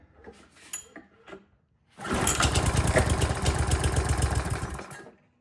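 A Toro lawnmower engine, long unused, starts up and runs at a steady idle for about three seconds before cutting off, loud and close, with a few soft clunks just before it starts.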